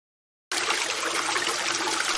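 In an animated English lesson set on the sinking Titanic, after a moment of silence, freezing water abruptly starts rushing in, a steady, full hiss of flowing water that continues without pause.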